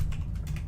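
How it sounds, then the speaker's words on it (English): Keystrokes on a computer keyboard while playing the game Duskers, a few quick taps spread over under a second against a steady low hum. "I'm so bad at typing."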